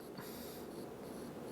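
S Pen stylus writing on the screen of a Samsung Galaxy Note10, a soft, continuous scratchy rubbing of the plastic tip against glass, close and quiet, with no voices.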